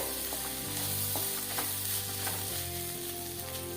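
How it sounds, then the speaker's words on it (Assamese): Rice fries steadily in a pan, a close, continuous sizzle with faint scraping stirs over a low burner hum, no voices. "চাউল মোৰ প্ৰায় ভাজা হৈ গৈছে।"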